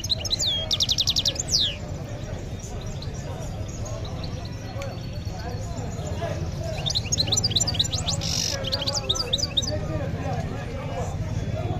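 Caged birds chirp and trill in short bursts at the Lqriaa market in Casablanca, amid a busy, noisy background of crowd chatter and low rumble.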